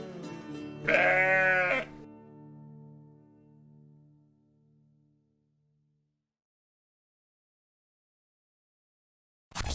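A grey Finnsheep gives a single loud bleat with a wavering tone, and the sound then fades into a long quiet tail.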